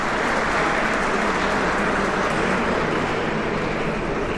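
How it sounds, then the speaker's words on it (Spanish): A crowd of spectators at a pelota match between Spain A and France A in a frontón, during the 2021 world cup, stands and applauds, producing a loud, dense, unbroken roar of clapping that holds steady for over four seconds. "El respetable aplaude de pie,"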